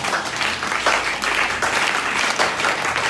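An audience at a church sermon breaks into sustained, dense applause, loud and close, with some cheering mixed in throughout.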